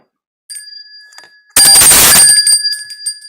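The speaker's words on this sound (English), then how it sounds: "Oh dear, get the bell again." A quiz-show bell on a weather podcast rings with a sharp, loud metallic burst after a few faint tinkly tones, then rings on and fades over about two seconds.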